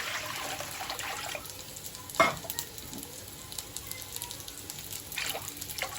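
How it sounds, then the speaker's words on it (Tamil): Water pours into a hot pan of paneer gravy with a soft hiss and sizzle, then a clatter of stirring, close up and fairly quiet. "இப்போ தண்ணி சேர்த்துக்கலாம்."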